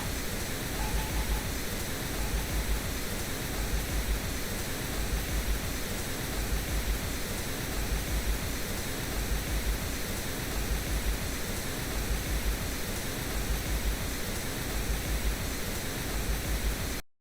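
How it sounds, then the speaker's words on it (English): Pink noise test signal used while mixing a song, a steady, loud, uniform hiss spread evenly across the range, running continuously without variation or voices. "this is actually pink noise. Perfect energy throughout all of the octaves"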